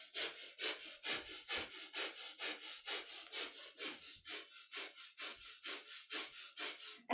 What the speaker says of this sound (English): and it's a breath of fire.